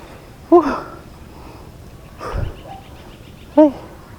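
A dog gives a few short yips or whimpers outdoors on a mountain hike, three brief calls spaced apart, fairly close but modest in volume, with a faint thump in between.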